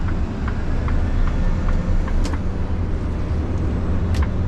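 Mercedes Econic bin truck driving along a busy road, a loud continuous low engine rumble with road and traffic noise and faint intermittent clicks and squeaks on top.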